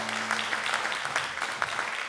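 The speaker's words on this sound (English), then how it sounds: "You guys give them a round of applause." Crowd at a country music opry claps for veterans in the audience, a steady dense patter of applause at moderate volume filling the room without talk.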